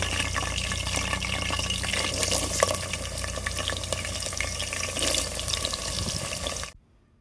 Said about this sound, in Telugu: ఆయిల్ వేడెక్కిన తర్వాత పచ్చిమిరపకాయ ముక్కలు ఉల్లిపాయ ముక్కలు వేసుకోవాలి